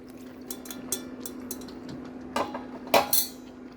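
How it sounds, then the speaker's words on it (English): Boiled penne pasta tipped into a pan of creamy white sauce and stirred, heard as light utensil clinks and scrapes against the pan over a steady low hum, with a couple of louder clatters near the end. "Now let's add our boiled pasta."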